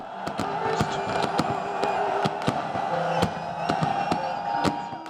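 Repeated sharp bangs and crackles of New Year fireworks in Bahria Town, Lahore, go off in quick succession over a constant roar of a large crowd cheering in the distance.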